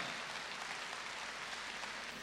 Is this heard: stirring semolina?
no